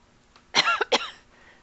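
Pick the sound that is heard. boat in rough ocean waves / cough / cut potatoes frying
cough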